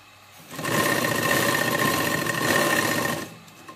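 A sewing machine stitches the side seam of a burqa, running in one steady, loud, continuous burst of about three seconds and then stopping.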